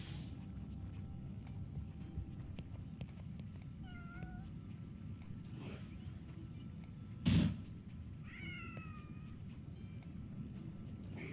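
A cat meows several times in the video game Quantum Conundrum, with short rising and falling cries heard over a steady low hum, plus a brief louder knock partway through.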